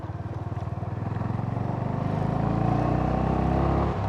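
A small, low-powered motorcycle's exhaust drones steadily while riding near Mount Fuji in Japan, a close, continuous engine note that rises slightly in pitch and loudness before easing off at the end; no talking.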